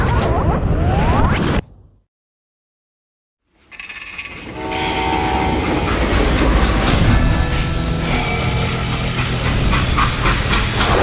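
A train rumbles and screeches in the western video game Call of Juarez: Gunslinger. A short sound cuts off into a moment of silence, then a loud, steady rolling clatter returns with metallic squeals and horn-like tones.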